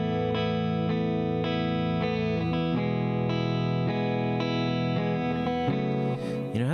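Distorted electric guitar chords ring out steadily through a small NUX Mighty Air modeling amp, bass-heavy and full, with a few chord changes and no talking.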